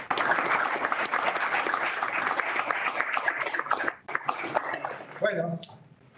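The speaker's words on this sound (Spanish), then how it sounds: "Un aplauso para ustedes." Audience applause at a meeting of chambers of commerce and businesses, a dense burst of clapping that dips briefly near the end before a few voices and a final flurry fade out.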